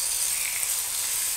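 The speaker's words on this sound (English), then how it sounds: "the idea here is to sizzle the fish slightly, not on the skin side, but on the other side" Two mackerel fillets sizzle flesh-side down in a hot pan for an escabèche, producing a steady, bright hiss that runs unbroken and fairly loud throughout.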